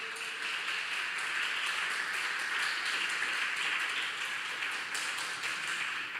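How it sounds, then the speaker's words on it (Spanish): A church congregation applauds loudly and steadily, with a continuous wash of many hands clapping that holds at an even level without any talk. "Por favor, aplauda fuerte al Rey de Reyes y Señor de Señores."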